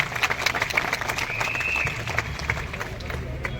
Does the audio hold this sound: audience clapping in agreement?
yes